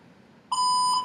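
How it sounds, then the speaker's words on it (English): A quiz show buzzer sounds once, a sudden loud electronic tone held for about half a second after a quiet lead-in. "You actually have to buzz in. That's what the buzzer's for."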